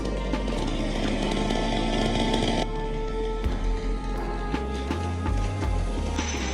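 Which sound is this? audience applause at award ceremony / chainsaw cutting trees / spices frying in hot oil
chainsaw cutting trees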